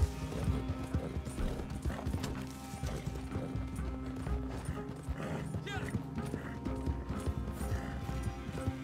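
Horse hooves clip-clop steadily with occasional neighing, set against a busy backdrop of steady music and game-like mechanical sounds, moderately loud throughout.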